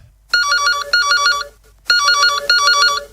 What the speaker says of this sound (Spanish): Teléfono